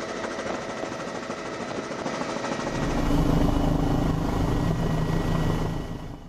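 An OH-58 Kiowa Warrior military combat helicopter drones steadily with a rapid rotor chop, swelling louder midway before easing slightly, heard alone without speech.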